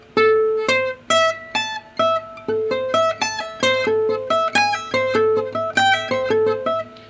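Clean electric guitar plays a sweep-picking exercise, rapid arpeggiated notes rolling up and down in repeated phrases with crisp, evenly spaced attacks, played alone without talk.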